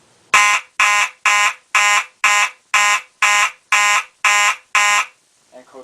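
A Simplex 24-volt DC fire alarm sounds in march-time pattern: ten loud, evenly spaced horn blasts about half a second each, separated by short gaps, then a faint trailing sound.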